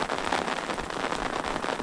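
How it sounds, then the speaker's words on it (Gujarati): Heavy rain pours steadily on an outdoor path near a dam, a dense, even hiss of drops striking surfaces close by with no pauses and no voices. "વરસાદ છે, ફૂલ વરસાદ અને ભેહું પડી છે,"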